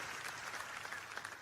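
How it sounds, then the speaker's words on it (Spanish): Applause from a church congregation during a sermon, a steady dense patter of many hands clapping together at moderate level, continuous through the brief moment with no voice over it. "dile al Señor un aplauso de adoración por eso"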